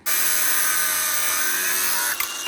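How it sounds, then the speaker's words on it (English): A power tool, likely a cutoff grinder, whines steadily at high pitch while cutting off the front engine mount during a Cummins-engined Land Rover Defender build, loud and continuous before a brief clatter near the end. "we're now going to cut the front mount off"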